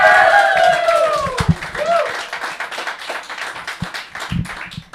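A lively club audience claps and cheers for a band at a live music show, dense applause with a few whistles fading slowly while a host's voice rides over the start.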